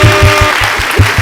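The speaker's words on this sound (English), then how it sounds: "We'll put the clap track in there." Canned clap track of applause welcoming a podcast guest on a talk show, short and steady with a rhythmic low thumping running beneath the clapping.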